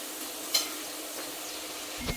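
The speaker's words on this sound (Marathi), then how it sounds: "मिरची पण चांगली परतून घ्यायची" Green chillies and potato fry in a pan with a steady close sizzle, a few light spoon scrapes and clicks over it.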